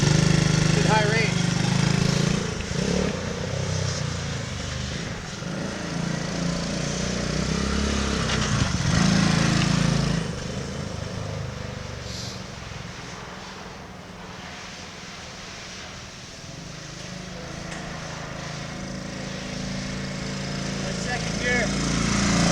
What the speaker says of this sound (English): Fires up. First kick pretty much every time. It runs perfect.